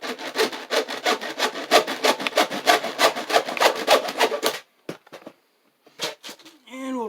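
A saw cutting through plastic Wiremold raceway, a close, loud, fast rhythmic rasp of back-and-forth strokes that stops abruptly, followed by a few scattered knocks and handling noises.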